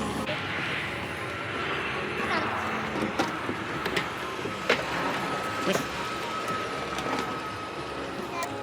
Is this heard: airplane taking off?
yes